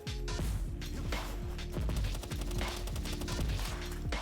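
Rapid video game gunfire in Palworld rattles in quick repeated bursts over a rhythmic, pulsing backdrop, fairly quiet overall and with no speech.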